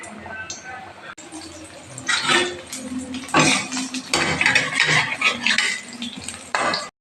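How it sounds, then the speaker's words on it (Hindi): Chili pakoras frying in a pan, with an oily sizzle and crackle rising and falling as they are turned, broken up by metal utensil scrapes and clinks against the pan. "सभी देख रहे हैं कितने अच्छे से फ्राई हो रहा है, ऐसे पलट के"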